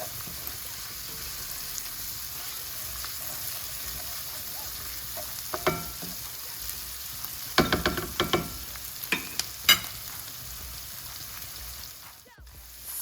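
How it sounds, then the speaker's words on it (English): Onion sautés in a pan for chicken stew, a soft continuous sizzle with bursts of stirring and scraping in the middle, then a brief quieter moment near the end. "the onion has been sauteing for about roughly 3 minutes now"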